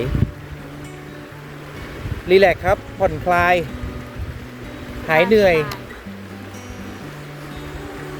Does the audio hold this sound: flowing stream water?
yes